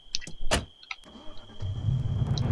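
A car engine starting in Arma 3, with a few clicks and knocks before the motor catches and settles into a steady low idle rumble.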